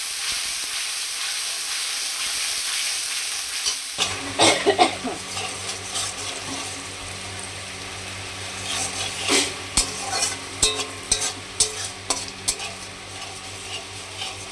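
Cumin and bay leaf tempering in a little oil for a vegetarian paneer and potato curry, a quiet hiss giving way to steady, close sizzling with scattered clinks and stirring scrapes of a pan.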